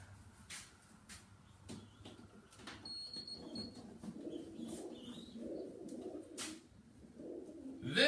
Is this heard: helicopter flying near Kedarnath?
no